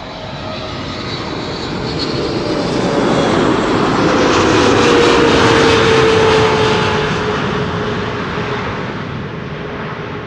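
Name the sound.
Airbus A321neo in new livery arriving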